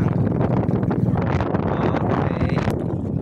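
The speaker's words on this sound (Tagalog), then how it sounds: "Medyo mahangin." Wind blows at a beach, buffeting the microphone with a rough, continuous roar that gusts unevenly for a few seconds, with no one speaking.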